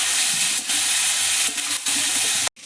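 Snake gourd and potato frying in a pan with salt and turmeric: a dense, close hiss of sizzling that holds steady, briefly dipping a few times and cutting off abruptly near the end, with no talking.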